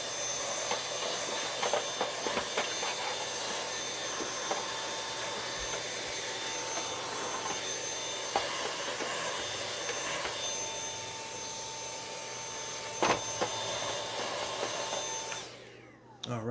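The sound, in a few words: vacuum cleaner cleaning dust out of a Dirt Devil vacuum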